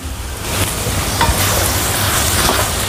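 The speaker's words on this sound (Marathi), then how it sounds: "शेंगदाण्याचं कूट मिक्स करून घेते" Crushed peanuts are stirred into a potato curry in a hot pan, giving a loud, continuous sizzle with scraping stirring strokes throughout and no talking.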